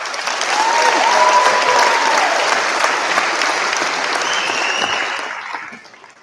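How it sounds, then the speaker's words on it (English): Sustained applause fills the hall at a high school senior awards night for the honored seniors, steady and full-bodied before tapering off quickly in the final second. "If we could give them a big round of applause."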